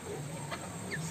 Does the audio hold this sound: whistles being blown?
no